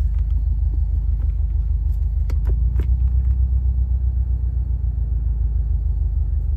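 A Subaru WRX STI with 36,000 miles on the odometer idles with its engine running, giving a steady, deep, close rumble that stays even throughout.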